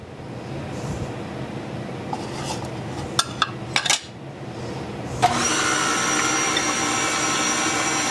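A spoon works through pumpkin cookie mixture in a bowl, giving a few light clinks and scrapes against the bowl before a steady, continuous scraping churn takes over.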